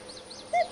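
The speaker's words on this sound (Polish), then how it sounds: "O, kukułka dalej sobie kuka" A cuckoo calls in the Farming Simulator 19 game world, one brief faint note standing out over a steady low ambient hum, distant and alone without any voices.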